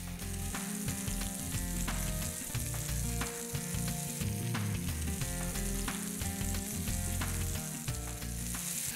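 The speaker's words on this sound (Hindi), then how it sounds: "इसको घुमाते हुए हम चारों तरफ से सेक लेंगे जब तक कि इसका रंग जो है इस तरह से सुनहरी हो जाए।" Pineapple paneer tikka sizzles loudly in a hot pan as it is turned to brown on all sides, giving a dense, continuous frying crackle with no voices.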